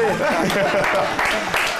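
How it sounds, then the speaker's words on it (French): A studio audience at an evening French TV show breaks into steady applause, clapping filling the moment while a host's voice and some chatter carry over it. "Applaudissez, s'il vous plaît"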